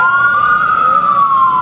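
Emergency vehicle siren passing nearby, a loud sustained wailing tone with a slight pitch rise and fall, alone over faint traffic.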